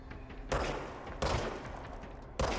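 Enemy gunfire in the game Control: three sharp loud bursts of shots at roughly even intervals, each followed by a rattling tail, close by, with no talking.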